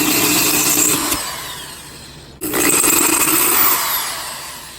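A power drill bores holes for a homemade demo fusion reactor, running loud and steady at close range, cutting out briefly near the middle and then resuming, with no voices.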